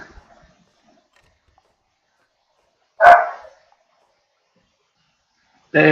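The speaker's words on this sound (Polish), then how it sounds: "przepraszam was za to, jeśli będzie słychać jakieś szczekanie psa" A pet dog barks indoors somewhere nearby, giving one short sharp bark and then starting another at the very end, with near silence in between.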